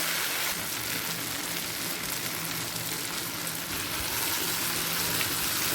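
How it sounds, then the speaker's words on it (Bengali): A paste of ground ginger, cashew, poppy seeds and green chilli frying in leftover oil in a pan, making a steady close hiss and crackle that holds evenly throughout with no talk. "বাকি যতটুকু তেল আছে সেই তেলেতেই দিয়ে দিচ্ছি বেটে রাখা আদা কাজু পোস্ত কাঁচা লঙ্কা"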